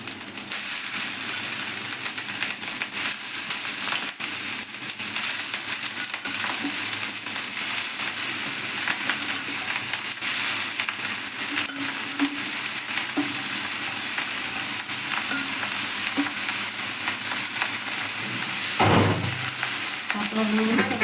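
Water lily stems frying in a pan with coconut and shrimp give off a steady sizzle, broken by scraping stirs and a brief clatter near the end.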